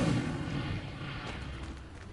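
Incendio fire spell in Hogwarts Legacy, heard as a steady roaring rush of flame noise that slowly thins out over a couple of seconds, with no other sounds.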